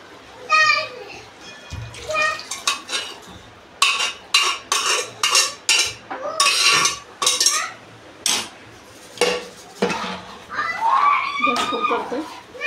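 Cooked chickpeas being tipped into a spiced chole gravy in a home kitchen and stirred, with metal utensils clinking against the pot in short bursts while a voice talks throughout.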